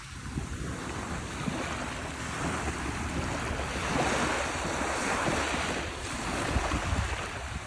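Surf breaking continuously on a beach near a group of houses, with steady wind buffeting the microphone; the wash of waves swells and recedes in broad surges throughout, fairly close and dense, with no voices.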